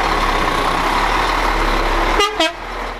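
Humanitarian aid trucks heading off toward the Reyhanlı border gate, two short blasts of an air horn sounding over a continuous loud rumble of heavy engines and traffic.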